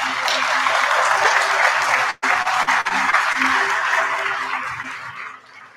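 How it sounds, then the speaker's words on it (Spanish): Dense, sustained applause from an audience at a school award ceremony honouring first-year students, loud and steady with a brief dip partway through before slowly fading. "Brindemos un fuerte aplauso para los estudiantes destacados del primer año"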